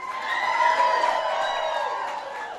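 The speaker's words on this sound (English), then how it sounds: "Well, everybody give Jordan a big round of applause." Rowdy crowd at a political rally cheering and whooping steadily, a dense sustained roar with shouts and some clapping mixed in, fairly loud throughout.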